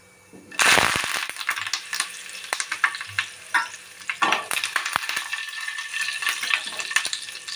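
Curry leaves dropped into hot oil with cumin seeds already in the pan give a sharp burst of sizzling and frying. Crackles and pops then run steadily and fairly close, with no one speaking.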